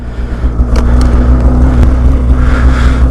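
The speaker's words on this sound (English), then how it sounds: "You're riding his snowmobile." Snowmobile engine running steadily on a late-season sled trip, a constant droning hum close by with a few brief higher whines on top, no talking.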